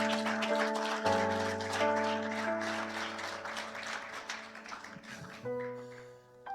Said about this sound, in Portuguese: Vamos aplaudir ao Rei dos Reis